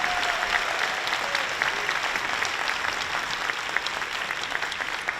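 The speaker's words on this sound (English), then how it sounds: "how about a round of applause for our 2024 honorees?" An audience at the Lowell High School Distinguished Alumni Ceremony applauds for its 2024 honorees, a steady, even clatter of many hands that holds for several seconds without a break.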